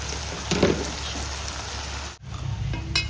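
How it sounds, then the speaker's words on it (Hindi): Tomatoes frying in a pan of ghee-laced masala for a paneer and vegetable pulao, a steady close sizzle throughout with a brief stir-like clatter early on and a short gap before the frying hiss resumes. "टमाटर भूनती हूँ दही में डाल"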